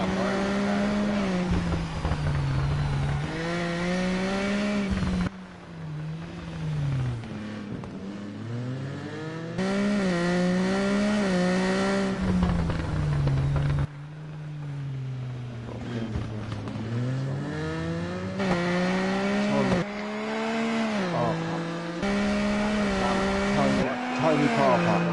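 Motorcycle tires skid and squeal in the racing game TT Isle of Man 2, with a high engine whine rising and falling through shifts, loud and steady across a long run of sliding with someone talking over it.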